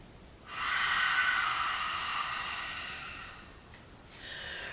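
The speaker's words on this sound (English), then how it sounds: "take a cleansing breath" A cleansing breath during a yoga session: one long, close, airy exhale lasting a few seconds, followed by a shorter second breath starting afterward.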